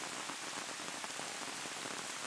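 Monsoon rain pouring through a forest, a dense, even hiss of drops on leaves and ground, steady and moderately loud with no pauses and no voices.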